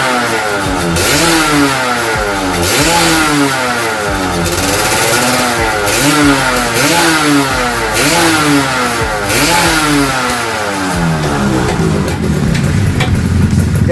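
A Yamaha F1ZR two-stroke motorcycle engine with an RX piston revs hard and close, its pitch climbing and falling in a repeated run of rising throttle blips before settling back, loud and unaccompanied by talk.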